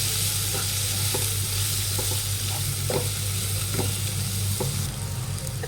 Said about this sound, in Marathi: आता हे सगळं आपल्याला फ्राय करून द्यायचं आहे